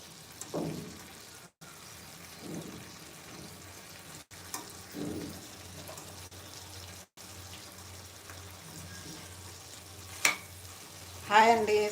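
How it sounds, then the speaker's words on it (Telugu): Chicken curry frying in oil in a pan, with soft intermittent scraping as it is stirred, quiet sizzling underneath and a couple of sharper utensil clinks near the end. "మంచిగా ఫ్రై అవ్వాలి ఇంకా కొంచెం."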